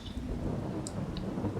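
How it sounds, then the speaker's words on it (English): Steady rain hiss from Farming Simulator 22 fills the scene, continuous and moderately loud, with a low rumbling bed and a couple of faint high chirps, no voices. "it is still raining, however"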